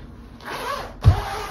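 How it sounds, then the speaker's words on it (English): A zipper on a windproof winter jogging and cycling suit is pulled up in a short, close rasp, ending with a soft thump near the top. "Let's see, is it easy to zip up? Oh yeah, the zipper seems like it's a good zipper."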